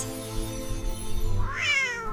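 A single cat meows once, a rising then falling cry heard close over a low background hum.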